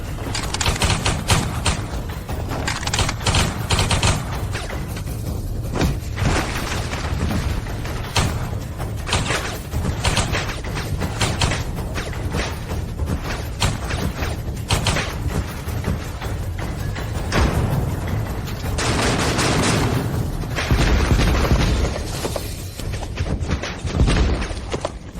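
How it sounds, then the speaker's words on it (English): Musketeers fire repeated volleys of musket shots, dense bursts of sharp cracks and booms rolling on and off for the whole stretch, loud and close, with no voices standing out. "Musketeers, open fire."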